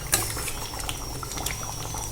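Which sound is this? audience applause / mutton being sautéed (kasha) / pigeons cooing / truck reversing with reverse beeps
mutton being sautéed (kasha)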